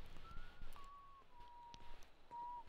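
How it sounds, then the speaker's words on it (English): A character in the video game Fallout 4 whistles a melodic tune resembling the Sesame Street theme, faint and thin over quiet background noise, with a few soft taps. "Is he whistling Sesame Street?"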